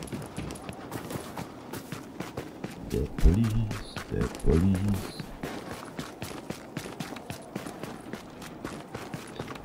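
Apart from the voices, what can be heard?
agent running footsteps in the video game The Division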